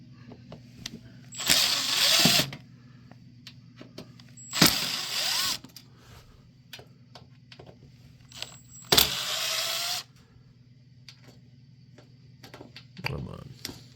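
Screws come out of the bottom panel of a thrift-store Realistic stereo under an impact driver: three loud, buzzing, whirring bursts of about a second each, split by quieter pauses over a low steady hum, with a fainter fourth burst near the end.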